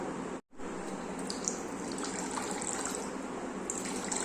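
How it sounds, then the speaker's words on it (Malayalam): Orange juice pours steadily into water in a container in a continuous splashing stream after a brief silent gap at the start. "ഇനി ഇതിലേക്ക് നമ്മൾ എടുത്തു വെച്ചിരിക്കുന്ന ആ ഓറഞ്ചിൻ്റെ ആ ഒരു ജ്യൂസ് ഒന്ന് ഒഴിച്ചു കൊടുക്കാം"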